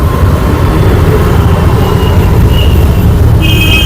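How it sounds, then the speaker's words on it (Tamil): Steady electric auto-rickshaw ride noise heading to a railway station, with a constant low rumble and road hiss, a faint high whine appearing toward the end, no voices. "எலக்ட்ரிக் ஆட்டோவில் திரும்ப ரயில்வே ஸ்டேஷன் போயிட்டுருக்காங்க"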